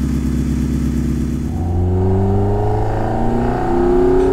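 A Ferrari Dino with a 400bhp V8 engine upgrade, fitted with Motec ECUs, idles and then revs up in steady rising sweeps, loud and close with no talking.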